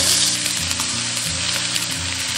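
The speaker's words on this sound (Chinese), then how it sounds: "接着下入黄骨鱼煎" Yellow catfish sizzle and fry steadily in hot oil in a pan, a continuous close crackling hiss with no voices.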